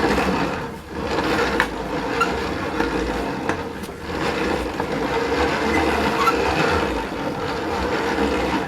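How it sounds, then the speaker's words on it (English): Hand-cranked food mill grinding corn into masa, a continuous gritty scraping and rasping churn with small irregular creaks and brief dips as the crank turns, fairly close and steady. "You can sort of see the way the masa is coming out of the grinder"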